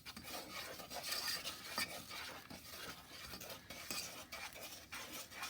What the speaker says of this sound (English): just kind of stir that around